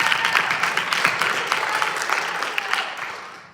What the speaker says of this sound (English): Everyone applauded even louder.